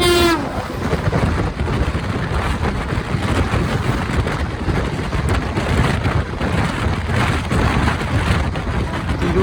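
A Garib Rath Express passenger train rumbles along continuously with rhythmic wheel clatter and wind rushing past, loud and close; a short horn-like tone opens the sound.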